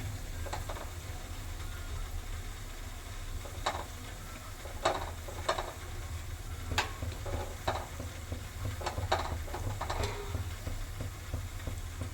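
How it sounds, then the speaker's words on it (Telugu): Gulab jamun dough balls deep-frying in hot oil give a steady close sizzle, broken by scattered sharp clicks and taps of a spoon or slotted ladle against the pan. "ఇప్పుడు ఆయిల్లో బాల్స్ వేసి మంచిగా వేయించుకుందాము."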